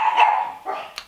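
Several sharp, loud dog barks in a quick burst from nearby, a pause, then another bark and a short high yip, heard indoors with no voices.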